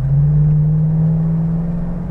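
A Jeep Wrangler JK pulls away and shifts up through its gears, a steady loud engine drone and low rumble holding throughout at close range with no voices.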